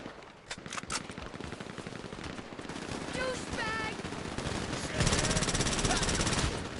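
Automatic gunfire from Special Carbine Mk II assault rifles in the GTA Online video game, with several loud, rapid bursts and overlapping volleys that build toward a dense, sustained stretch of shooting near the end.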